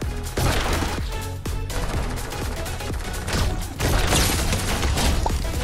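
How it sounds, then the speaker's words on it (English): Mythic sideways rifle in Fortnite firing in dense, rapid bursts, loud and close, with sharp repeated shot transients over a busy game soundscape and no talk. "Let's put this mythic sideways rifle into action, baby."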